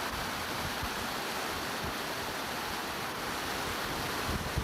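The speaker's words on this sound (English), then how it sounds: "The river's flowing pretty well here." Santa Clara River running high after two days of heavy rain near a diversion structure, a steady broadband rush of water and wind filling the whole stretch at close, constant loudness with no voices.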